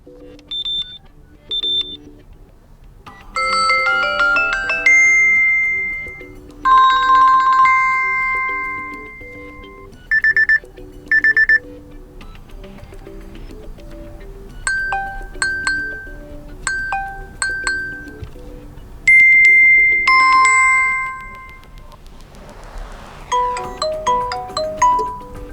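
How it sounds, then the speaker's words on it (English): A Samsung Galaxy Watch 5 plays a series of alarm tone previews one after another: bright electronic chimes, beeps and melodic ding patterns, each short sample separated by brief pauses, loud and clear with no talking. "you have a list of sounds you can use as the alarm,"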